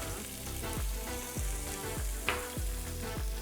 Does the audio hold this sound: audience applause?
no